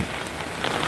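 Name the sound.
heavy rain falling on a wet walkway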